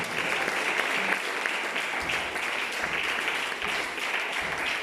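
Sustained applause from a church congregation fills the space, dense and steady throughout, with a faint voice underneath.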